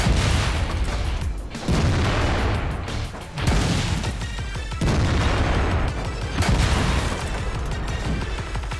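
Tank guns firing in a World of Tanks battle, a rapid series of loud booming shots with crashing impacts over a dense rumbling battle din.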